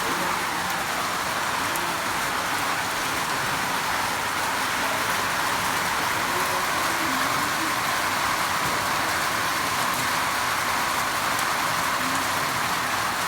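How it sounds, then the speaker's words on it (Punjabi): Steady rain falls outdoors in a continuous, even hiss of drops on surfaces, filling the whole stretch at close range with no voices. "ਤੇ ਬਾਰਿਸ਼ ਲੱਥ ਗਈ ਹੈ"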